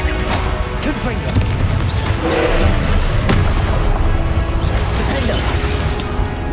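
A Confringo spell blast in Hogwarts Legacy, a loud fiery explosive burst within dense, constant combat noise. Rumbling crashes carry all the way through, and a voice is heard calling out spells.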